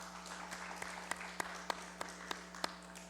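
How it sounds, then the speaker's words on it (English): A gallery and members in a congress session applaud steadily under a constant electrical hum, with a few sharper individual claps standing out; the clapping is fairly faint and distant. "I would ask that we also give him a round of applause."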